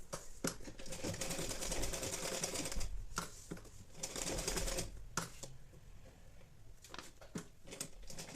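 A sewing machine stitches in quick rapid runs, its needle rattling in bursts separated by short pauses, close and fairly quiet, with no talking.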